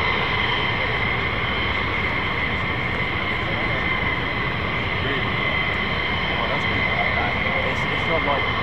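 Military aircraft taxiing on an airfield, a steady loud engine roar with a constant whine held throughout, continuous and close, with faint voices underneath.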